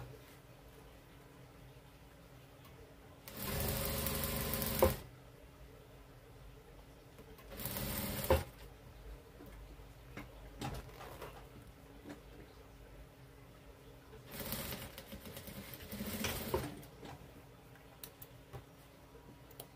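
A sewing machine stitches a zipper onto a fabric pouch in several separate bursts of fast, steady whirring, each lasting one to two seconds, with quiet pauses between them.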